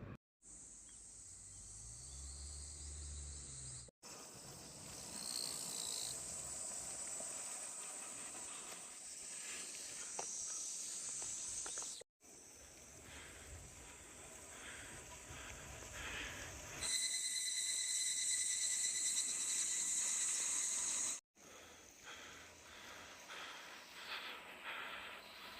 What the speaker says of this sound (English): the mountains were alive with the sounds of birds, bugs, and the constant drone of cicadas